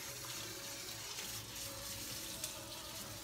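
Tap water runs steadily into a bathtub while a dog is rinsed, a continuous close hiss of flowing water with no talk over it.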